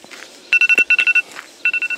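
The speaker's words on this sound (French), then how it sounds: "c'est mon téléphone, ça j'ai foutu l'alarme" A mobile phone alarm goes off outdoors on a forest hike, sounding as loud, rapid electronic beeps in two quick bursts of pulses, close by, with faint background noise between.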